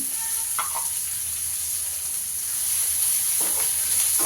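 A cinnamon leaf, kasuri methi and cumin seeds sizzle in hot oil, giving a steady close frying hiss with a few brief crackles and pops.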